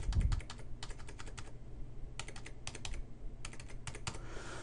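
Bursts of typing on a computer keyboard as a credit card number is entered, quick clusters of key clicks separated by short pauses over a low steady hum, fairly close.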